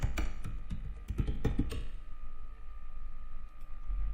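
Rapid typing on a computer keyboard while working in Canva, a close flurry of sharp key taps at first, thinning to scattered presses and pauses, with no voice.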